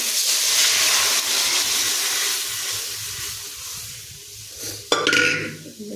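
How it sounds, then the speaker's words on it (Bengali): Tomato frying in a pan, a hissing sizzle with stirring that gradually eases, then a sharp clatter and a louder burst of sizzle near the end. "টমেটোটা ভেজে দিই, ভালো লাগবে খেতে"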